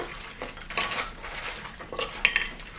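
Ginger pineapple wings tossed in sauce to coat, with utensils clinking and scraping against a bowl in a few clustered bursts and a couple of sharper clicks near the end.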